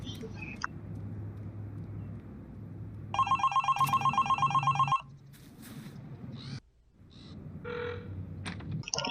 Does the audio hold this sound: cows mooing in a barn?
no